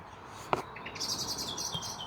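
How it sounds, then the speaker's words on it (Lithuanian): Birds chirp in quick, high bursts, several calls overlapping at moderate distance against a soft outdoor hiss. "Paukščiai gražiai čiulba."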